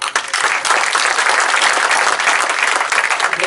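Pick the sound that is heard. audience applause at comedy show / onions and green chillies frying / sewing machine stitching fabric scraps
audience applause at comedy show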